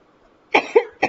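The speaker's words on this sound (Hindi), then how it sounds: "माफ कीजिएगा, थोड़ी खांसी है," Three quick, close coughs from a man break a short silence, the second slightly throatier, coming in a rapid burst.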